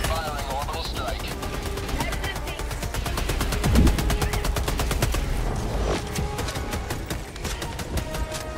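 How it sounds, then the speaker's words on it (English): An orbital strike rains down in the Helldivers 2 shooter amid continuous heavy gunfire and rumbling blasts, a dense, loud barrage with a strong impact near the middle, overlapping in-game voices. "Firing orbital strike."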